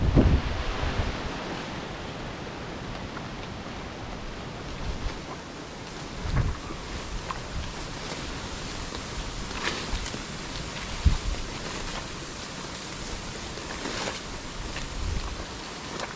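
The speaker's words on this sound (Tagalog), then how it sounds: "lakas ng hangin" Strong wind gusting and rushing across the microphone, a constant broadband roar with occasional louder buffets, no voices.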